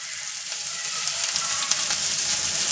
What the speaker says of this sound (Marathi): आता कांदा, आलं लसूण परतून घ्यायचं आहे।